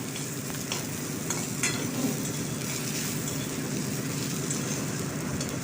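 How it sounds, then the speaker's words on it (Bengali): Onion frying in a pan as greens are cooked, a dense, even sizzle close up with repeated stirring scrapes and soft clacks of the spoon, steady throughout with no voices. "এই পেঁয়াজটাকেও আমি একটু ভালো করে ভেজে নিচ্ছি"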